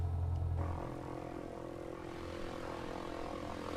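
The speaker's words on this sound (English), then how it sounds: "I think we're ready, folks, for an engine start" A Van's RV-14 propeller aircraft engine in Microsoft Flight Simulator drones steadily at close range, a low, even hum that holds throughout with no voices.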